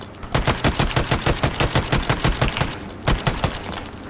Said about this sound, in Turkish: Evet, şöyle bir silah testi yapalım mı?